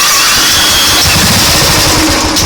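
Royal Enfield Bullet 500 EFi motorcycle engine, cold, starting and running loud and close, with a rough, rapid single-cylinder thump throughout.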